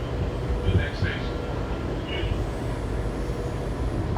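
A Kawasaki 7000-series metro car, number 7148, runs underground toward Gallery Place Chinatown with a steady low rumble and roar, a few brief higher squeals and tones rising over it, and a voice murmuring faintly beneath.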